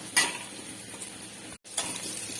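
Ponnaganti greens frying in a pan with a spoon stirring through them; a steady sizzle broken by sharp scraping strokes, with a brief silent gap midway and no one talking.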